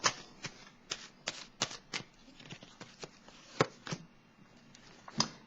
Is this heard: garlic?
no